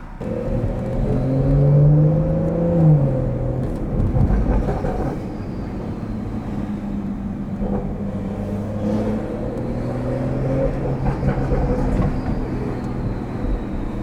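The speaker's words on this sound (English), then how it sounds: "Turbo is just singing right now." A Stage 2 tuned BMW 440i accelerating on backroads, its turbo whistling in rising and falling tones over a loud, continuous engine drone that climbs through gear changes, close and prominent for the whole stretch.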